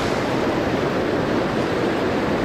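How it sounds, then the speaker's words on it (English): Water of the Magalloway River, a tailwater in Maine, rushing steadily close by as a dense, even broadband roar with no pauses and no voices. "this is the Magalloway River"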